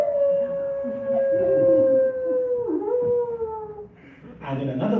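A voice imitates a dog howling at night, a long sliding wail that drops in pitch and breaks into a second, rougher howl, close and loud, with speech following.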